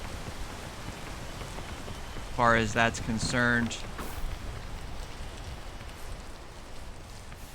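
Steady hiss of rain falling across the landscape in the video game Peak, a soft constant wash beneath a short stretch of talk.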